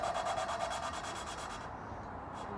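A valve from a 1928 Chevy engine head is lapped by twisting a suction cup tool. Quick, rhythmic, gritty rubbing strokes sound up close, then stop about two-thirds of the way through.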